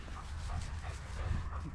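Dogs bark and whimper at night at feeding time, giving faint, scattered yips and whines over a low rumble.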